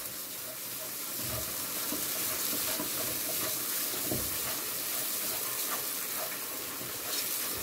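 Rice with spices is stirred in a hot pot, giving a steady sizzle with scraping and stirring sounds close by and no talking.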